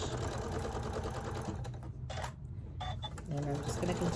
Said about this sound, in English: I'm just going to continue sewing